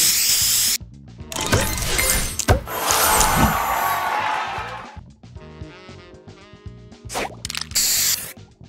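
A booster spray effect from the video game Clash of Clans plays as a burst of hissing spray followed by crunchy, shattering and dripping effects, loud and layered with quick stops and restarts, and no talking.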